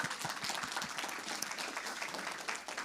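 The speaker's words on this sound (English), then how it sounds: "So another round of applause for Amy and all that she does." A crowd applauds steadily at the 2022 Oregon New Venture Championship. The dense clapping holds at an even level for about three seconds and sounds somewhat distant.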